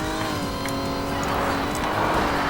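A video game car's engine drones loudly and steadily at high revs with a rough, gritty layer suggesting sliding tires during a drift, continuous and close.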